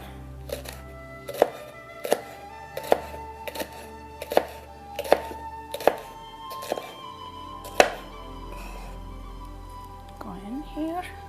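A knife slices two chili peppers finely on a cutting board in a kitchen, giving a steady series of about a dozen crisp thunks spaced roughly a second apart. A low hum sits under it, and a voice murmurs near the end.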